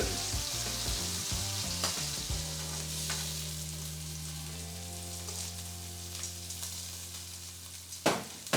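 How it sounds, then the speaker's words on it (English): Nduja sizzles in a pan as it releases its fat, a dense and even frying hiss up close, with clatter early on, a steady hum underneath and a sharp knock near the end. "as the nduja cooks, it releases some of its flavoured fat into the pan"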